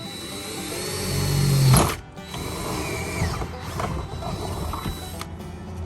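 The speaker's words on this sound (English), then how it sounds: "Let's put a hole through the side of the trailer." A power drill whirs steadily for nearly two seconds while boring through the side wall of a cargo trailer, then cuts out, followed by lighter mechanical rattling and handling noises.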